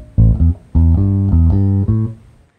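Bass guitar playing the call phrase of a swung blues shuffle in A, built on root, fifth, minor seventh and octave: a few deep, rounded plucked notes in a bouncing rhythm, close and clear with no voices.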